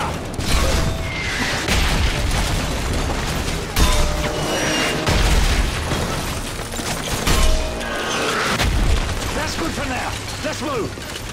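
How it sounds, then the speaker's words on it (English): Heavy booms and bursts of mortar fire and explosions ring out in a Call of Duty Modern Warfare 3 campaign battle, recurring every few seconds over a dense din of gunfire, with voices shouting through the action. "Keep firing a mortar!"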